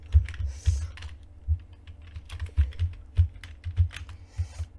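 Typing on a computer keyboard while writing web page code, heard as distinct close keystrokes in short irregular bursts with brief gaps, alone without voices.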